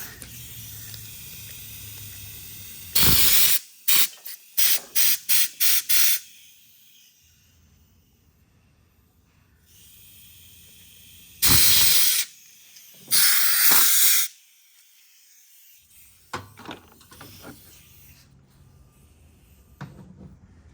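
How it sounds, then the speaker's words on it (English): Compressed air blasts through the carburetor of a Simpson 3400 PSI pressure washer, with a string of sharp short bursts, then two longer loud hissing blows and a few fainter puffs between quiet gaps. "We're just using compressed air to blow all that out"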